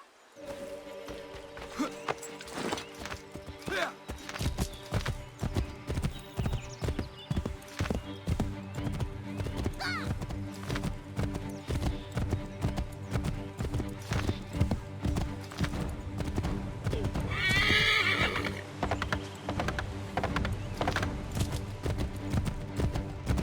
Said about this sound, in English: Take my horse! Bring him here!